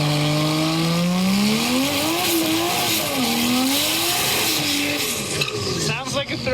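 A box-body drag car with a Mara inline-six engine, its loud revving engine climbing and dipping in pitch, then a rattle of shifts or backfire near the end, with a voice talking over it.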